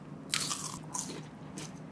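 Crunchy luqmat al-qadi fried dough balls coated in caramel pecan sauce being bitten close up, two or three crisp crunches spaced across a short moment with soft chewing between, no talking.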